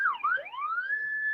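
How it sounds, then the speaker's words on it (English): An ambulance siren wails close by, rising and falling in a quick sweep before holding a steady high tone, loud and clear with no voices over it. "It ain't the cops, man. It's the ambulance."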